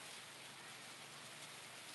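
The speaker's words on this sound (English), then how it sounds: "Yes, it's raining. It's dumping." Heavy rain pours at night in Cebu, Philippines, a dense, steady hiss of water on surfaces, loud and unbroken with no voices.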